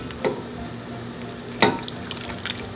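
Milk and heavy cream are whisked in a pan over heat for mac and cheese, a soft simmering hiss with two or three louder scraping strokes of the whisk, close and moderate, no voices.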